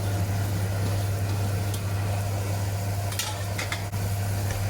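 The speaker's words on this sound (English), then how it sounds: "Why we do have to stir again and again?" Vegetables sizzle in hot ghee for veg biryani, a constant frying hiss with a low steady hum beneath and a few brief scraping strokes of the spoon late on.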